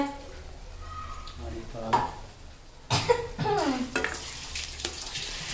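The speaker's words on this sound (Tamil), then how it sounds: "இது சட்டியில் ஒட்டிருச்சு நல்லா சைடெல்லாம் எடுத்து விட்டுட்டு கிண்டுங்க" Moong dal halwa stirred in a pan with ghee, intermittent scraping and sticky sizzling strokes near the mic, with brief voice sounds and a cough-like noise in between.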